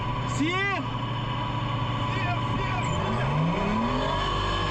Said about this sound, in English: Now I hear them revving the engine to close the door